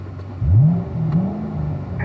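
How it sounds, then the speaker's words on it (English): A 2017 Corvette Stingray C7 Z51 at a track gives a sharp throttle blip that rises and falls, then a second, longer rev that swells and settles back to idle. It is close and loud, with no talk. "We'll throw the girls a couple of revs here."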